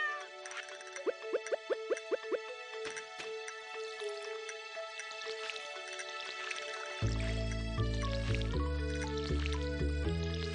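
A cartoon cat meows in the farming video game Stardew Valley, several short mews sounding over the game's soft background music, which later shifts to a fuller, lower tune.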